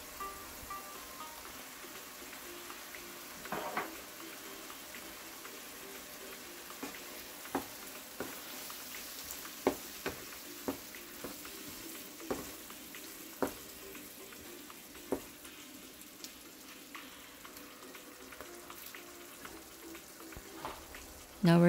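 Cabbage rolls sizzling in a pan after vinegar is added, a steady hissing fry with scattered pops and clinks throughout, moderately quiet and close.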